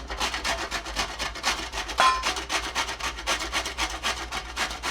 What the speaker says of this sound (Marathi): माझ्याकडे कैरी आहे थोडीशी कैरी किसून घालते